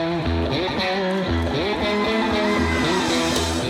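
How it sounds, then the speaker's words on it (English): Electric guitar through the right side of a Paisley Overdrive pedal, set to a Noble's ODR1-style tone, plays a driving, rhythmic country lick with repeated low chugging notes and bends, loud and close. "The next tone is the Noble's ODR1 tone,"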